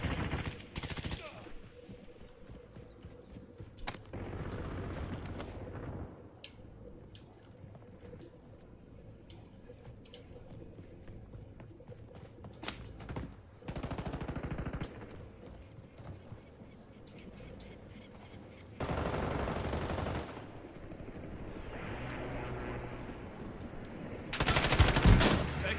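Gunfire crackles through a WWII Battle of the Bulge shooter, sporadic shots and bursts at mid-distance with heavier louder volleys near the end, under occasional voices.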